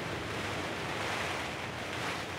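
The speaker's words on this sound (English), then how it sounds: "It's proper windy." Strong wind blows outdoors around a garden of raised beds, a steady, loud, broad rush that buffets continuously with no pauses and no voices.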